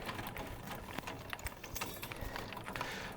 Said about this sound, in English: take some of the slack up so I don't have to crank it quite as much. And I can do the rest here by hand.